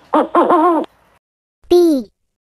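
An owl hoots in a children's alphabet animation, first a quick series of clear hoots and then, after a pause, one longer falling hoot, loud and close with no talk.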